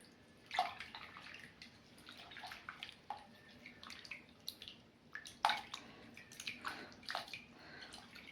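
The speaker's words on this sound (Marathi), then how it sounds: "सगळीकडे फिरवून घेते पाण्यात." Potato slices being swirled by hand in a bowl of water with alum, giving soft repeated sloshing and splashing with brief clicks, fairly quiet and close, with no talk.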